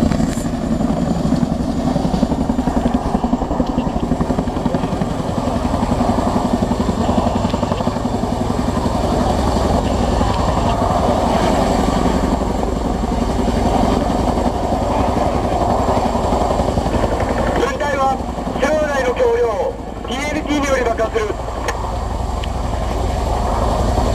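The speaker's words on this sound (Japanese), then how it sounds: "ヘリコプターによって速やかに離脱する要領をご覧いただきます。" A military helicopter flies during a Fuji firepower exercise, its loud continuous rotor thrum and turbine whine filling the whole stretch without let-up, with faint distant announcement-like sounds near the end.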